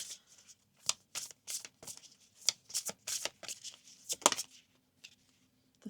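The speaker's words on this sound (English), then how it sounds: "I'm going to pull from this deck." A deck of tarot cards is shuffled by hand in a string of quick riffling, slapping bursts, close and fairly loud, with short pauses between them and no talking.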